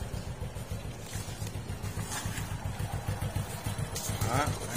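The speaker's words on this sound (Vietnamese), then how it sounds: "Đó, anh em nghe cái máy nổ không?" A Honda Wave Thai 110 motorcycle idles close by, its engine putting out a steady, even low putter the whole time, with a faint clatter and a few brief sounds breaking through above it.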